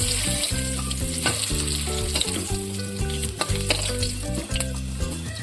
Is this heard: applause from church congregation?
no